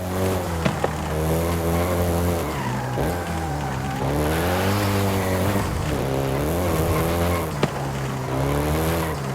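A Volkswagen Golf GTI driving in the racing video game Forza Horizon 5, its engine roaring steadily with shifting revs and gear changes and tires squealing in places, loud and continuous with no voices.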